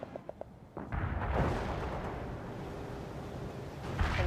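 Artillery and gunfire rumble through a World in Conflict battle, starting with a few sharp pops, then a dense, sustained roar of explosions and shooting that swells again near the end.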